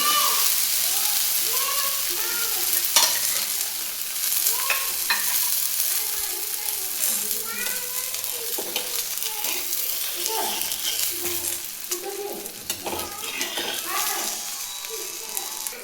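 Bottle gourd thalipeeth fries in oil on a pan, a steady close sizzle with scattered crackles and spatula scrapes throughout, under a voice speaking over the cooking.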